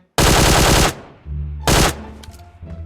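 Two loud bursts of automatic gunfire in PUBG Mobile, the first a long rapid stream of shots lasting nearly a second, then a brief pause with low rumble before a shorter second burst.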